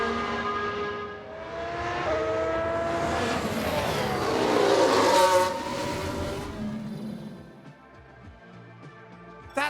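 F1 race cars in the video game F1 Manager 1991 run wide, with loud engine whine sweeping up and down in pitch as cars pass close by, then tapering off into a quieter roar.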